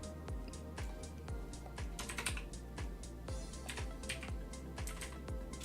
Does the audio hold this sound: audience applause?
no